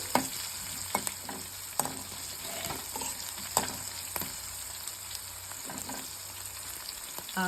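Dried red chillies roast in a pan over a low flame, making a soft continuous sizzle dotted with irregular clicks and scrapes of stirring, close by and without speech.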